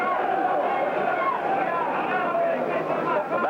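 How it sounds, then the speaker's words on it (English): Argentinian boxing fans at a fight arena chanting "Ringo" in a continuous, distant crowd roar, with the chant blurred into the general hubbub. "there is a group here of Argentinians who keep calling Ringo, Ringo, Ringo"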